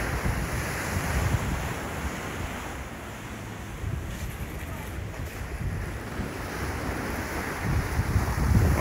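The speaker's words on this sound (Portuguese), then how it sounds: "Isso é o avanço do mar, né? A fúria do mar aí." Sea surf breaking steadily on an eroding beach at Pau Amarelo, Paulista, with broad continuous wash and roar, strong wind buffeting the microphone throughout, no clear speech.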